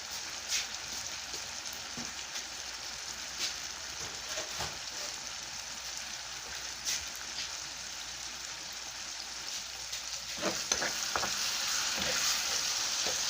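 Tomatoes fry in a pan for a simple Filipino scrambled egg dish, giving a steady close sizzle with occasional stirring scrapes that grow a little louder toward the end, and no talking.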